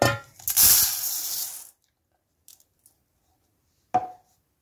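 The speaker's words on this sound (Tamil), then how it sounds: "தேவையான அளவு தண்ணி ஊற்றி ஊற வச்சிடலாம்." Water poured over a glass of basmati rice to soak it gives a loud, splashing gush for about a second and a half, then a few faint clinks and one short knock.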